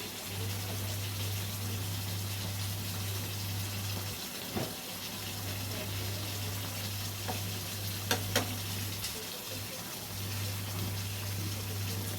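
Slit green chillies fry in a pan of hot oil with a steady, close sizzle throughout and a couple of faint clinks near the end.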